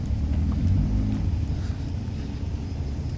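Cars moving slowly into parking spots at an outdoor cars and coffee meet in Japan, a steady low engine rumble nearby that swells briefly early on and then settles into a constant idle-like drone, with no talking.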